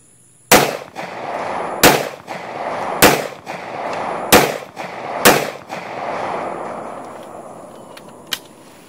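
Taurus PT709 Slim pistol firing five rounds at an outdoor range, sharp loud reports spaced roughly a second apart, each followed by a short echoing tail, with a faint metallic click afterward.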